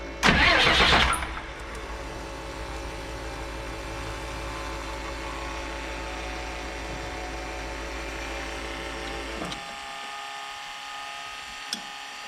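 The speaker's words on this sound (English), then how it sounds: "I just bumped the starter." A 2001 Freightliner bus engine's starter bumped briefly, a short loud whirring crank at the start, then a steady mechanical hum and whine runs on until it cuts out, with a faint click near the end.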